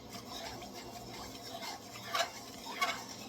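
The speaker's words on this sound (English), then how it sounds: "now mix that in" Spoon stirring ingredients into a homemade ramen broth in a pot, a soft continuous swishing with two brief clinks against the side, fairly quiet and close.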